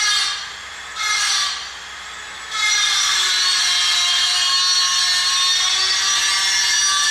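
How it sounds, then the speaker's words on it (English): Loud, continuous industrial machine noise with a high grinding whine, swelling in bursts before settling into a steady drone, no talking. "all the different types of sound of machines and drilling was constantly coming"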